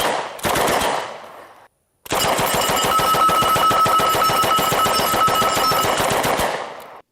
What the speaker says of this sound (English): Here's a guy that's shooting up some cans and bottles and things